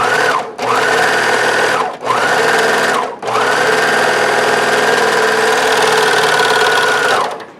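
Serger sewing machine stitching and trimming fabric with its built-in blade, a steady loud mechanical whir running in three bursts separated by brief pauses, the last run long and even.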